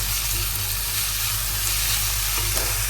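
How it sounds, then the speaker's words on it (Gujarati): Onions and green chillies frying together in a home kitchen pan, giving a steady close, loud sizzle that runs without a break, with faint stirring scrapes now and then. "તો હવે આપણે નાખી દઈએ કાંદા અને મિક્સ કરી લઈએ."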